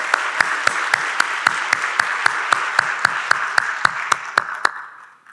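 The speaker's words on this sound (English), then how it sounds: "Give yourselves a wonderful round of applause." A large audience at a 2024 State of the County Address applauds steadily for about five seconds, with one rhythmic clap standing out near the front, before the clapping fades out.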